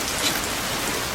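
Rain falls outdoors onto surfaces in a brief, steady, close hiss of patter with no voices.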